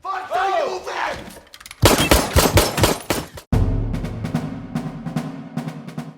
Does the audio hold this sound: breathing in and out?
no